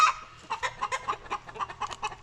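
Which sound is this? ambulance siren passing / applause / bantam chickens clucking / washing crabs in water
bantam chickens clucking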